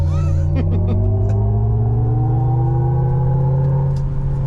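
A 2024 Hummer EV pickup accelerating hard at full throttle: a loud, close electric whine climbing steadily in pitch over a heavy road rumble, with a brief exclamation from a voice near the start.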